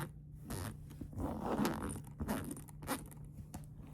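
A plastic craft bin's zipper lid being drawn open in several rasping pulls, close up, with scratchy bursts between short pauses and a faint steady hum underneath.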